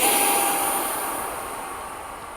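An FMS 70mm F/A-18 electric ducted fan model jet flies at a park, giving a steady, loud turbine-like whine with a high tonal edge that slowly fades as it moves away, with no talking.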